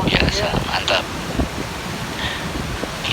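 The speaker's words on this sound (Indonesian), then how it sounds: "angin begitu luar biasa" Strong wind from Typhoon Mangkhut roars steadily through streets with cars and trees in Hong Kong, a constant loud broadband rush with gusts, while someone talks excitedly over it.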